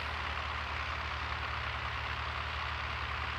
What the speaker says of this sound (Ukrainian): Тракторець шурує.